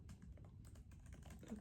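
Soft typing on a computer keyboard to take notes in a quiet ASMR sleep-consultant roleplay, with a quick, uneven run of light key taps, very faint and close.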